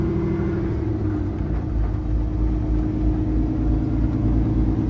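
A Peterbilt 389X truck drives around a racetrack at Texas Motor Speedway, its engine giving off a loud, steady, deep rumble that holds without pause for several seconds.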